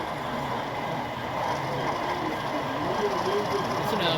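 A model railroad double header of two Alco locomotives rumbles along the track at a train club running session, a steady continuous rolling drone with faint voices in the background.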